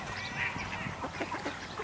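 Ducks at a pond quack and honk in a short busy burst while being fed, close by over outdoor background noise.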